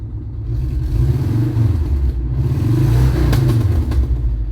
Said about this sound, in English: Revs up, it's spluttering quite a bit.